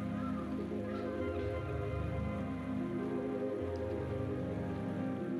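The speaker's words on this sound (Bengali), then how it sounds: "এখানে আমি আলুগুলো লাল লাল করে ভেজে নিয়েছি।" Potato pieces frying in hot oil in a pan, a soft, steady sizzle and crackle that holds throughout with no speech.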